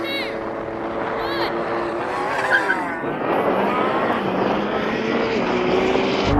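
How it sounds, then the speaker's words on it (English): Lamborghini Revuelto, Ferrari SF90 and Porsche 918 Spyder engines roar and rise in pitch as they launch hard in a drag race, tyres skidding, loud and close with rising gear-change sweeps. "Good launch by the Porsche as well."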